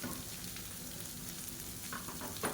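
Grated radish sautéing with mint and coriander leaves in a pan gives a soft, continuous sizzle with light stirring scrapes and a few brief crackles toward the end, close and quiet.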